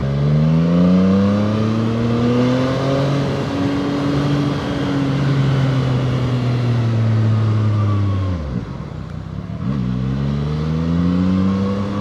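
Zontes 703R motorcycle engine ridden hard through twisty roads, a loud close exhaust note rising and falling through the revs, easing off briefly before pulling again, with no talk.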